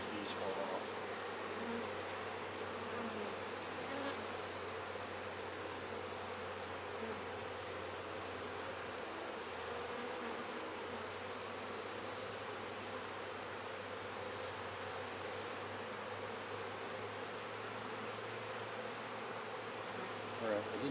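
Honey bees swarm around a hive frame during a honey harvest, their buzzing a dense, steady drone close by that holds unbroken for the whole stretch.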